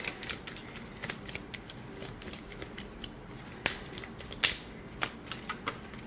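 A Star Seeker Tarot pocket edition deck is shuffled by hand, giving soft papery riffles and quick sharp card slaps in an irregular close-up rhythm.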